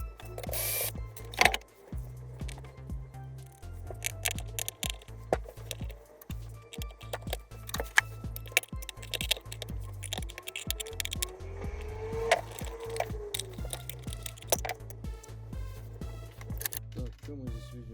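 Screws are backed out of the plastic gearbox housing of a DEXP MGL-2200S meat grinder, giving small clicking and ratcheting sounds with scattered taps and handling noise, close and fairly quiet.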